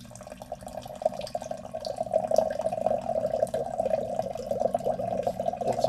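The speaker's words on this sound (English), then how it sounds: "I'm going to pour in some water with my trusty system here from the UltraStream." Water pours steadily from an UltraStream ionizer into a glass, a continuous close splashing trickle that builds slightly and holds for several seconds with no talking.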